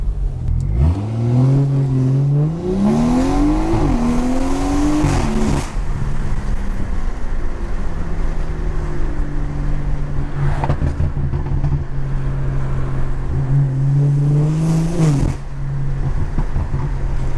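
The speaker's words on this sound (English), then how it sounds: "Let me see if I can do a little launch." A BMW 340i's B58 engine revs hard from a launch, climbing through gears with loud rising pitch, then settles into a steady drone before another brief surge, heard from inside.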